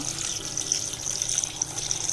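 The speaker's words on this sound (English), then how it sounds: "here you can also then add 5 cups of water" Water pours steadily into a cooking pan holding 200 grams of penne pasta, a short, continuous close-up gush of liquid with no talking.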